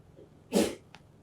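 A single sharp sneeze bursts out close by, followed by a short breathy sniff.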